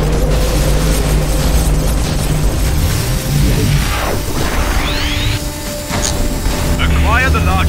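Frostbite cannon fire and explosions in the video game X-Morph Defense on brutal difficulty, with dense booms, crashes and whooshing sweeps layered over continuous loud game action and a speaking voice.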